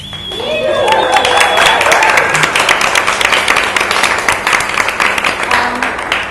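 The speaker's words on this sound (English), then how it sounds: "We have a big round of applause." A crowd claps together in sustained applause, a dense patter of hands lasting several seconds.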